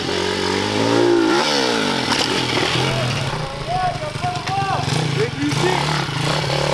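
Dirt bike engine revving loudly and continuously near the listener, its pitch rising and falling through throttle blips, with people talking over it.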